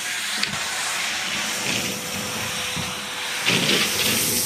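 A 2007 Hoover Garage Utility Vacuum runs continuously, a loud steady whooshing, hissing motor roar close by with brief surges in suction and no one speaking.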